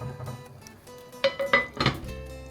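A metal lid clanks onto a pot of boiling Mexican rice, several sharp close clinks and rattles in quick succession as it settles, with no talking.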